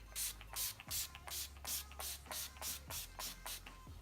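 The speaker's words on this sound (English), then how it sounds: "now I'm going to go in with my all-nighter setting spray" An all-nighter setting spray mists onto a face in a quick, even series of about ten short hissing bursts, each one close and soft.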